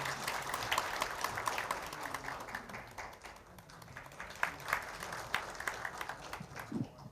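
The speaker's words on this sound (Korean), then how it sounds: "큰 박수로 맞이해 주시기 바랍니다" Sustained applause from a crowd at a Seoul doctors' day ceremony, steady clapping that fills the room for several seconds, with a few louder claps standing out near the end.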